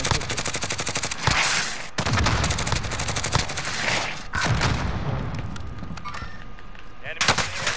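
Gunfire in the video game Call of Duty: Modern Warfare, with rapid automatic bursts and booming shots in dense volleys that fill most of the clip and briefly drop out between them.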